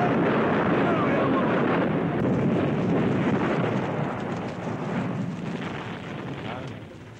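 A shop explosion, with the shop then burning, in the old Turkish comedy film Sakar Şakir starring Kemal Sunal, heard as a heavy, sustained roaring rumble that holds loud and then slowly fades, with no talk over it.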